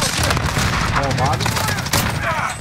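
Rapid gunfire from a Call of Duty: Modern Warfare match, dense bursts of shots layered with chattering fire and a sharp crack near the end, while players talk excitedly over the shooting.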